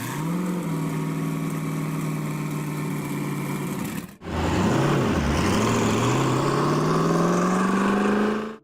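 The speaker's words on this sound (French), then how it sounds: "La SSC Ultimate Aero est propulsée par un puissant moteur V8 à double turbocompresseur." SSC Ultimate Aero with a twin-turbocharged 6.3-litre V8, idling steadily then cutting off briefly before revving back up with a rising, swelling pitch, loud and close with no talk.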